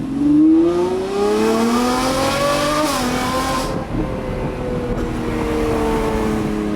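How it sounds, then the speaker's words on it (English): A loud Lamborghini Revuelto with an aftermarket Gintani exhaust revs hard, its pitch rising and falling through a long, sustained roar close by, with a brief dip before climbing again. "extremely loud exhaust"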